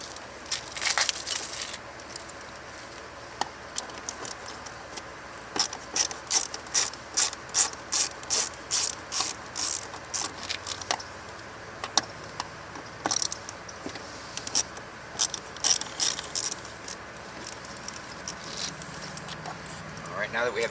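A ratchet wrench with a Torx bit backs screws out of a Chevrolet HHR interior panel, giving bursts of rapid, close metallic clicks that come in runs and pauses across the clip, with faint background noise between them.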